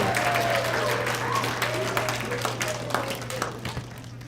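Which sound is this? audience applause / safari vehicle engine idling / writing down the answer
audience applause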